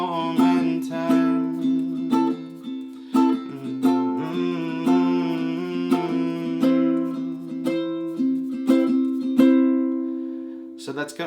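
A ukulele is strummed in a steady rhythmic pattern, with close, bright repeated chords playing a song and brief breaks between phrases.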